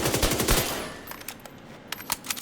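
Assault rifle fire from a shooter video game, a dense rapid burst up front that breaks into a few scattered single shots and short bursts, loud at first and then fainter.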